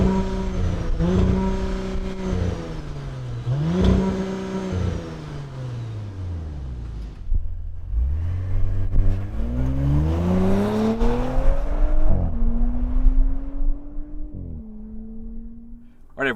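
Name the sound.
2020 Audi S4 engine revving through dual exhaust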